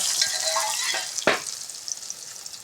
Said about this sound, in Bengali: এখন তেলে করে একটু ভাজে নেব।